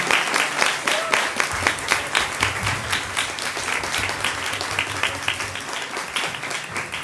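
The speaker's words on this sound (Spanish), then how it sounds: "Fuerte el aplauso." Audience giving strong applause at the end of a journalism and business conference talk, loud, rhythmic clapping that holds steady for several seconds with no voices over it.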